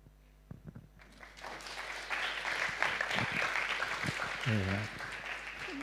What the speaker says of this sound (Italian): l'applauso dei robot